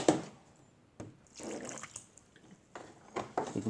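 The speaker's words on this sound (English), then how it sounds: "we can pour the rest of the milk" Milk pours into a thick flour batter for homemade fried chicken in short, wet splashing bursts separated by brief pauses, close and moderately loud.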